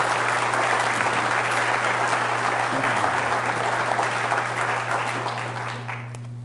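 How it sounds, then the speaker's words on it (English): An audience at a poetry festival reading claps for the poets in a full, sustained round of applause that gradually thins and fades toward the end. "Give a round of applause to them."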